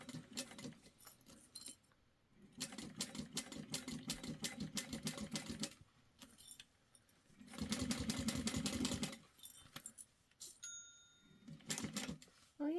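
Sewing machine stitching fabric during a cut-and-sew project, running in several bursts of rapid, whirring mechanical chatter, close and fairly clear, stopping and restarting between runs.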